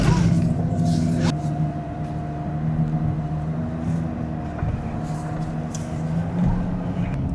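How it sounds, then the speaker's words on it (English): A Ferrari Purosangue V12 drives along with a steady, low engine drone and road rumble heard from inside the cabin, moderately loud and even throughout. "There's nothing better to make your baby fall asleep than this V12 sound"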